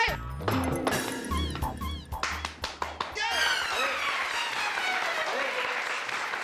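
People in a courtroom scene of a Hindi comedy series break into loud, busy applause mixed with voices and scattered noises, the clapping swelling and continuing throughout.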